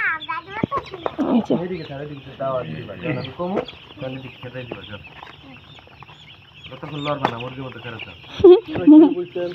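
Desi chickens being vaccinated cluck and squawk close by, mixed in with people talking throughout, with a louder burst of clucking near the end.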